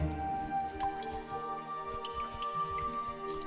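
Water dripping and splashing in a mammoth video game, scattered droplet patters over a steady ambient game backdrop, fairly quiet and continuous.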